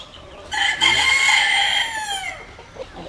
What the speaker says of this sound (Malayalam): അസീൽ കോഴിയാണത് അങ്കത്തിന് ഉപയോഗിക്കുന്ന തമിഴ്നാട്ടിലൊക്കെ അങ്കത്തിന് ഉപയോഗിക്കുന്ന അസീലാണ്